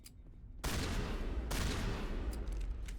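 Pistol gunfire from the video game Mass Effect Legendary Edition, a sudden burst of dense, loud shots starting after a quiet moment and continuing as sustained rapid fire with a second surge midway.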